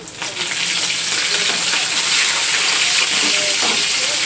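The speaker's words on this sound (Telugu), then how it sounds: "ఇది నిదానంగా సిమ్లో పెట్టి వేయించుకోండి, లేదంటే శనగపప్పు వేగదు, ఎండుమిర్చి వెల్లుల్లిపాయ ఏమో మాడిపోతాయి" Chana dal, dried red chillies and garlic fry on low heat as tempering for a ridge gourd chutney, giving a steady, fairly loud close sizzle with faint stirring throughout.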